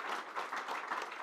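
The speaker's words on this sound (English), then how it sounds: "So maybe a huge applause for him too." Audience at a European security policy conference applauds a speaker, dense continuous clapping from a crowd throughout a short burst.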